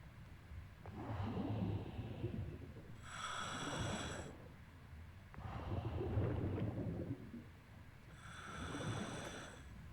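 Thunderstorm ambience in the stormy zone of the Everblue 2 diving game: deep rolling rumbles that swell and fade in waves, alternating with brighter whooshing surges, fairly quiet and without speech.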